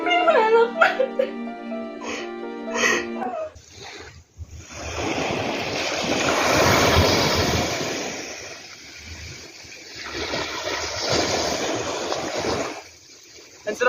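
Sea waves washing onto a shore, a broad rushing surf that swells and fades in two long surges after a short stretch of music at the start, with speech tagged but no clear words.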